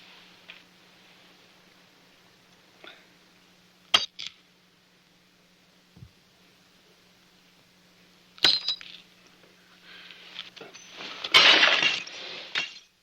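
Glasses are broken after a toast, with several sharp, separate smashes and clinks of glass spread across a quiet room and a burst of louder shattering near the end.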